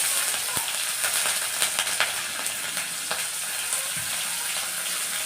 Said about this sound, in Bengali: তেলটা গরম হয়ে গেছে, এর মধ্যে আমি একটু দিয়ে দেবো 5 ফোড়ন, 2টো কাঁচা চেরা লঙ্কা